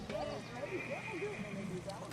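A horse at an endurance race whinnies repeatedly with rising and falling neighs, close and fairly loud, over a steady background of outdoor noise and possible hoof clops.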